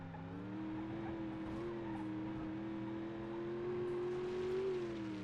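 Car engine in BeamNG.Drive, a steady mid-pitched drone whose pitch rises slowly and dips near the end, fairly quiet with faint tyre and road noise.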